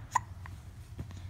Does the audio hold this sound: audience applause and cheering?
no